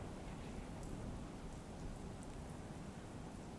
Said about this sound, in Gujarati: અમરેલીમાં પણ વરસાદી માહોલ જામ્યો છે.